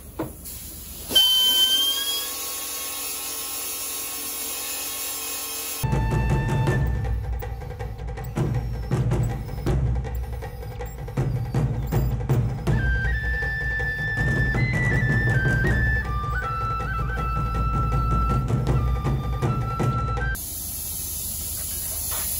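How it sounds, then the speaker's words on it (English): An angle grinder smooths weld spots on steel while building the structure for a truck bed floor and sidewalls. It gives a loud, sustained whine with shifting pitch over about fifteen seconds, framed by quieter stretches before and after. "Now to grind all the spots down smooth."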